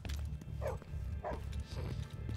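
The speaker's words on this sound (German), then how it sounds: "Wer bellt denn da?" A dog barks in The Division 2 near an underground car park, a few short barks spaced about half a second apart over a steady low in-game background rumble.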